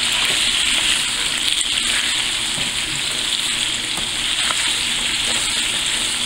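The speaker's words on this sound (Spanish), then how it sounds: "Vamos a esperar a que la cebolla quede acitronada." Onions frying in a pan as the base for frijoles charros, a loud, steady hiss and crackle of oil that runs without a break.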